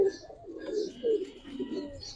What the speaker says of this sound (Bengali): কবুতরটা আমার বন্ধু তুষারের থেকে আনা লালবাগে